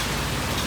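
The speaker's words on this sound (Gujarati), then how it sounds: "કેટલો વરસાદ આવે છે," Heavy rain pours steadily in a continuous dense hiss, close and loud throughout with no breaks.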